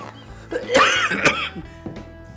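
Two or three harsh coughs burst out in quick succession, close and fairly loud, amid some rustling, during a funny food-eating charades game.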